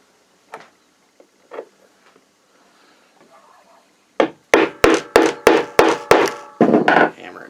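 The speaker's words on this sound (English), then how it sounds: "Hammer it down," Sharp hammer blows set a metal eyelet into a leather tinder pouch, about eight crisp, evenly spaced strikes close by, preceded by a few softer taps and handling noises.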